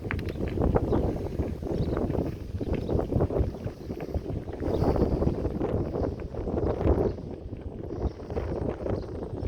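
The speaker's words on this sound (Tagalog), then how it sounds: "Tapos mahangin pa." Rough, gusty wind buffets the microphone continuously while cycling in New Zealand, with low rumbling noise rising and falling throughout.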